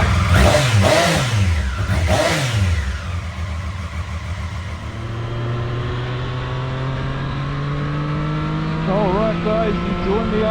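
A 2023 Triumph Street Triple 765 RS motorcycle engine revs hard on a road ride, with several sharp rising and falling rev bursts early on, then a steady climbing whine under wind noise.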